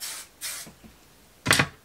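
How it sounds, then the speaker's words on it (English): Bed Head Manipulator hairspray, an old bottle, sprayed onto hair in short bursts: two quick hisses, then a brief pause and one longer, stronger spray, close and clear, without talk. "I always like to spray the hair with a little bit of hairspray before we start."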